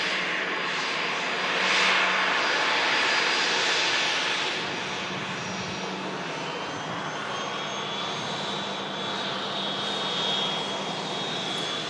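Airliner jet engines at Manchester Airport, a loud continuous roar that swells briefly and then holds steady, heard alone without talk.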